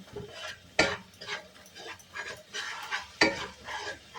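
Tomato paste and turmeric being stirred in a pan, with soft rhythmic scraping and two sharper knocks of a spoon against the pan over a faint background sizzle.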